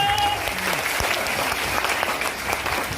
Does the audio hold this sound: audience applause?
yes